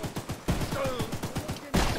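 Rapid burst of gunfire in the horror game Choo Choo Charles, a fast rhythmic string of sharp shots close and loud, ending with a heavier blast, with a brief voice in between.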